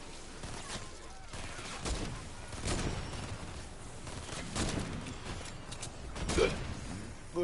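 Rapid gunfire in the video game Fortnite Save the World, a dense stream of shots over a busy battle background, moderately loud with a few sharper bursts.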